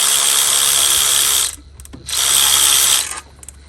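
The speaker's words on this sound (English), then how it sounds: "this is a Ryobi 3/8 drive from Home Depot." A Ryobi 3/8 drive power ratchet whirs loudly in two bursts of about a second and a half each, separated by a short pause, used while changing the starter on a Honda Accord.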